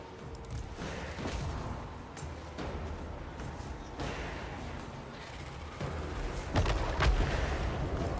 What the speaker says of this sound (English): Probably because the batteries are firing into our own troops at this point.